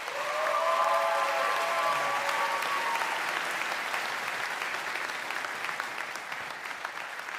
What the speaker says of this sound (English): Let's give Haley another round of applause, please, for sharing her story.